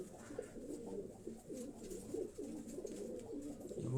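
Pigeons of a high-flying breed coo in repeated soft, low throaty phrases, close by and fairly steady, with a rolling rhythm of overlapping calls from several birds.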